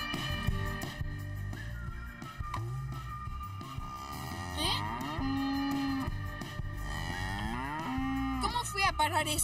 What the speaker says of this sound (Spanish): Parece una vaca.